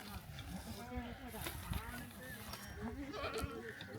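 Goats bleat faintly in wavering cries beneath people talking, in a quiet outdoor setting in Sindh, during deworming.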